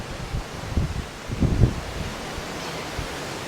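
Steady wind buffeting across a cruise ship's open deck far out at sea, a broad continuous rush with a few louder gusts near the middle, no voices.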